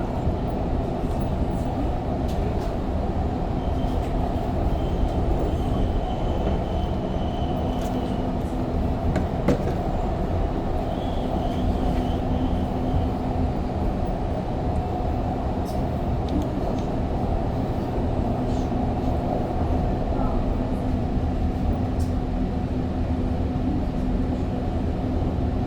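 Montreal REM light rail train rolling between Île-des-Sœurs Station and the next stop, a steady loud interior rumble with continuous hum, faint occasional clicks and squeaks, no talk.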